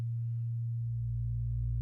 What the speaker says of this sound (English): Do a sine wave.